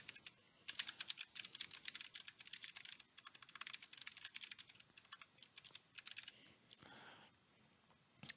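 Rapid typing on a computer keyboard while entering descriptive text for an image, with bursts of close, crisp keystrokes separated by brief pauses and no talking.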